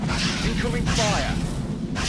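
In XCOM Long War, low booming explosions of incoming fire rumble beneath someone talking over them, with a whooshing burst in the middle of the short stretch.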